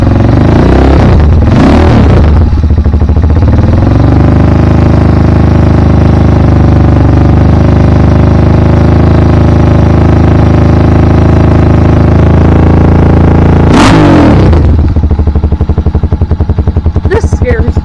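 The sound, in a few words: Honda Hawk 250 motorcycle engine revving after carburetor adjustment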